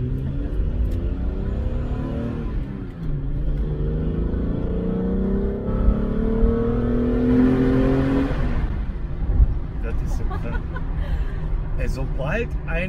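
A Golf 4 Cabrio with a VR6 turbo engine revs under a bridge, the engine note climbing in pitch and echoing loudly before easing off, while people talk and chuckle inside the car over it.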